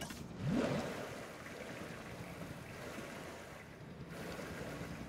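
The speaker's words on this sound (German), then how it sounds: "Und auch hier machen wir ein bisschen Wasser rein." Water poured into an enclosure in the video game Jurassic World Evolution 2, a broad rushing, surf-like wash with a brief louder splash near the start, then a steady watery hiss with no talk.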